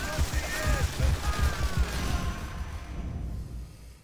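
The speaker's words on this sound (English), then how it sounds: "A bullet hit my helmet." Rapid gunfire and bullet impacts, including a bullet hitting a soldier's helmet, in the World War II shooter Call of Duty: World at War, dense crackling shots that thin out and fade toward the end.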